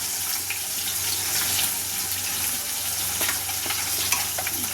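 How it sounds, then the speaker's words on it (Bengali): Steady, dense sizzling of rohu fish frying in hot oil, a continuous crackling hiss with no talking. "আমি খানিকটা রুই ভাজতে দিয়েছি"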